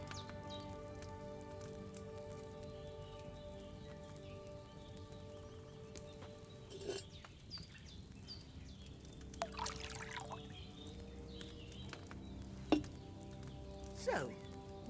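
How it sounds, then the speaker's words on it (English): Wine pouring into a cauldron in Kingdom Come: Deliverance II, a faint, steady trickle and dribble of liquid with a few louder splashes and clinks toward the end, quiet and close. "So, what did you pour in there? Wine, of course."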